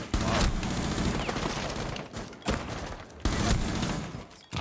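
Shots from a DMR rifle in a coastline map of a video game: several loud, sharp reports spaced a second or so apart over continuous battlefield noise, with a faint voice now and then.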